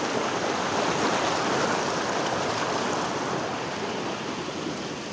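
A strong river current rushes over rocks at Curug Silangit waterfall in Sidoagung, Kebumen, a dense, steady roar of flowing water that stays loud and unbroken throughout, with no voices.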